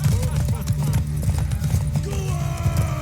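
Galloping horse hooves in The Witcher 3: Wild Hunt pound in a fast, loud, continuous rhythm during a race, close up, with shouts and game voices mixed over the hoofbeats.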